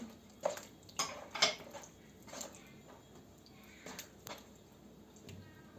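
Eggs, vinegar and yogurt are stirred in a bowl, giving soft scattered clinks and scrapes of a utensil against the bowl in irregular taps, faint against a quiet room.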